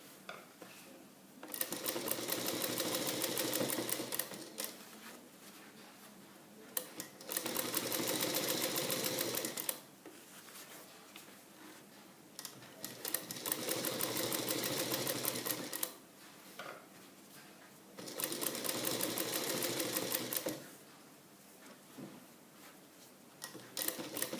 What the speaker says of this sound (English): press the seam allowance to the bias piece and give a top stitch on it, which is also called a stay stitch